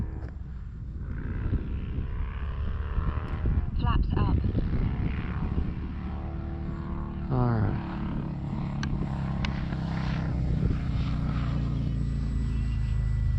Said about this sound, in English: Beautiful plane, beautiful plane.